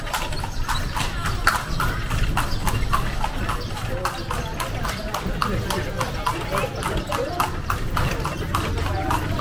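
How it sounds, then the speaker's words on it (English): Hooves of a horse pulling a carriage clip-clop on a street in Vigan City in the northern Philippines, in a quick, steady close rhythm under road and ambient noise. "This little horse is moving, man."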